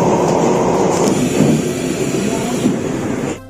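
Steady low rumble of a moving train carriage in Taiwan, a loud, continuous rolling roar that swells and fades slightly before cutting off, with voices talking faintly underneath.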